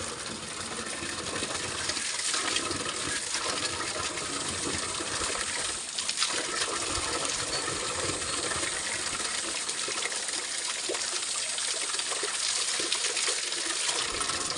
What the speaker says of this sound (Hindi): ये भर दिया मैंने पानी